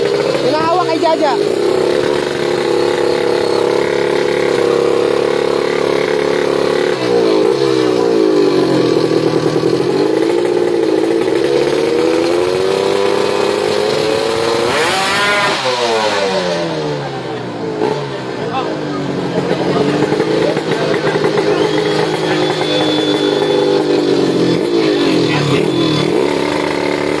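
A racing motorcycle engine, tuned for speed, roars around a circuit in the Philippines, rising and falling through revs as it passes nearby, loud throughout with a commentator talking over it.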